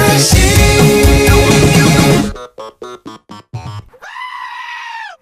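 Goat bleats edited into a novelty sheep song, several short screaming bleats in quick succession after music, ending in one long loud wavering bleat.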